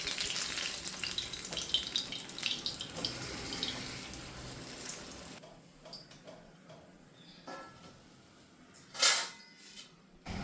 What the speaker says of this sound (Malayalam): ഏത്തപ്പഴം ഞാൻ ചെറിയ പീസുകളാക്കി മുറിച്ചിട്ടാണ് പൊരിച്ചെടുക്കുന്നത്